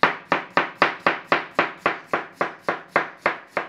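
Knife chopping through peeled potatoes on a board for Cornish raw fry, about fifteen steady, evenly spaced crisp chops close up, with no talk.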